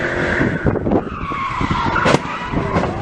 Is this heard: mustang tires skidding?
yes